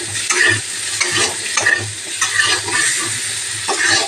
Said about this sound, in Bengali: এবার এটাকে আমি লাল লাল করে একটু ভেজে নেব।